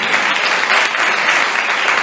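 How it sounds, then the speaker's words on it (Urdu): Loud, sustained applause from a church congregation during a sermon, a dense clatter of many hands clapping continuously for a couple of seconds with no speech over it. "زور تالیاں ایک بار پھر خدا کے کلام کے لیے."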